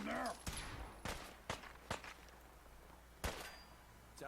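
Gunfire in Fallout 4 comes as about seven sharp, close shots at irregular intervals. Each crack stands out over a quiet background.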